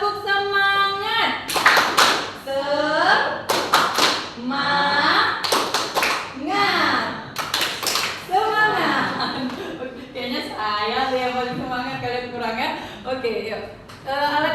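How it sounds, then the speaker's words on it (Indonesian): Classroom of children repeating a rhythmic spirit clap, short bursts of group clapping interleaved with energetic shouted chanting and a little laughter, loud and close. "Sekali lagi, tepuk semangat."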